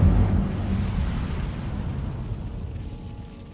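Fire spell cast in a Hogwarts video game, a sudden loud whooshing blast that rumbles low and decays gradually over a few seconds.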